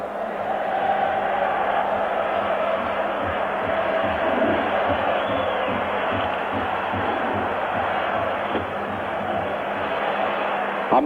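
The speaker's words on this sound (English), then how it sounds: "those people in the stadium standing and singing as only an Italian crowd knows how" Large Italian crowd at Rome's stadium during the 1984 Roma v Dundee United European Cup semi-final, singing and roaring in a steady, dense wall of sound that stays loud and continuous throughout.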